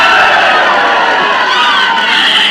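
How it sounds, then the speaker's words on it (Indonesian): An audience at a mayoral and deputy mayoral candidate debate breaks into loud, dense applause and cheering, a sustained roar of many hands and voices close and even throughout. "Boleh tepuk tangan semuanya sekarang."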